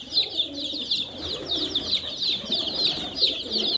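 Pigeons cooing steadily with soft repeated coos, accompanied by a continuous high chirping of chicks throughout, close and fairly loud.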